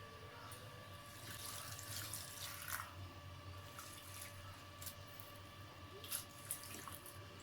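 Tap water runs over raw prawns in a kitchen sink or bowl, a faint, steady trickle with a few soft splashes and drips, and nobody speaks.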